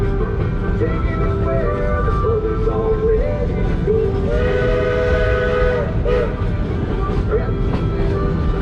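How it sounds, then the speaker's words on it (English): A Georgetown Loop Railroad train sounds its whistle as a warning before a curve, with long sustained blasts over the steady rumble and clatter of the moving train, loud and close. "Now that whistle warning is for this curve that we call the high fill."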